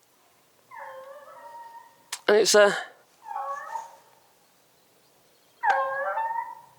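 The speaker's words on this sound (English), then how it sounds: "God, those dogs make some noises, they really do." Dogs howling and whimpering in drawn-out, wavering bursts, moderately close, with a short stretch of someone talking between the calls.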